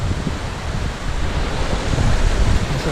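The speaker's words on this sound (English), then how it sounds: "This little set of rapids." A small set of river rapids on the Black Forest Trail makes a constant loud rush of churning water, close and unbroken, with no speech.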